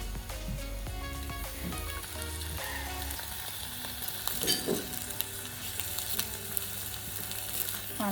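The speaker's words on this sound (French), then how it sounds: "on continue à faire griller le tofu" Tofu fries in a pan with a steady, crackling sizzle that carries on without a break. Occasional light stirring knocks sound above the hiss.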